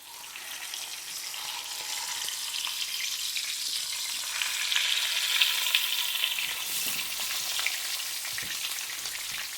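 A giant steak fries in plenty of oil in a pan, giving a steady, fairly close hiss and crackle that stays even throughout with small popping spatters and no voices.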